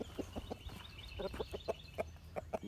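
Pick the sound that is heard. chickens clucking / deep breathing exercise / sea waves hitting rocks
chickens clucking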